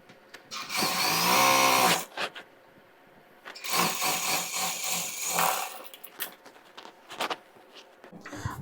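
A sewing machine stitches the crotch seam of a girl's jumpsuit, two bursts of steady motor whir with a rising pitch, separated by a pause and followed by light clicks and handling of fabric.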